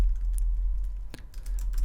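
Someone types text into Photoshop on a computer keyboard, a few quiet, close key clicks spread sparsely over a low hum.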